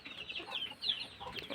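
Chickens clucking at a small farm poultry house in Siquijor, a few close, scratchy clucks and calls in a brief burst with no talk.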